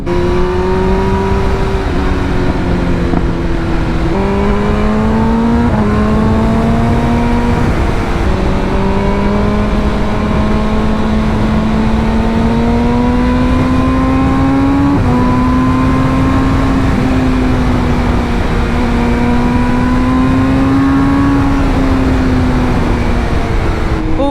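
A 2023 BMW M1000R motorcycle, 220 hp, pulls hard through the gears, its loud, close exhaust note rising steadily and dropping briefly at each upshift over about 24 seconds, with no talking.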